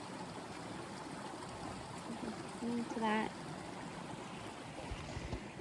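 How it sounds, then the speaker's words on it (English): Tiny stream flowing beside a backpacking campsite on Vancouver Island, a soft continuous trickle and wash of water heard throughout, with a short spoken phrase partway through. "I can hear the water. I have I chose a place like right next to the tiny little stream."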